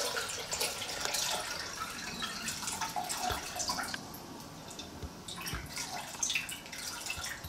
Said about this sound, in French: Je vais mettre 800 g d'eau.